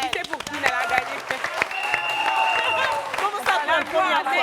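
Studio audience at a French television show clapping in scattered, sharp bursts, with excited voices and cheering whoops talking over the claps throughout.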